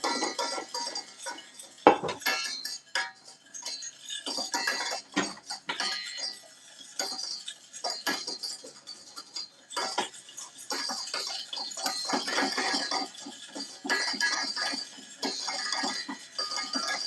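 Butter and flour stirred in a pot as a roux for a ragu and lasagna feast, with a steady run of light metallic scrapes, clinks and ticks from the utensil against the pot. No one speaks.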